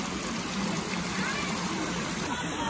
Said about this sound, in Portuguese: olha a cachoeira ali, filho. Nossa, que cachoeira linda